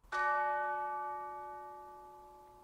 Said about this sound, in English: Also a bell.